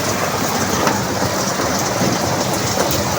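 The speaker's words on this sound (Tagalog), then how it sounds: "Medyo nalakas ang ulan." Heavy rain pours down on a parking area in a dense, unbroken hiss of drops hitting surfaces, loud and steady, with no voices.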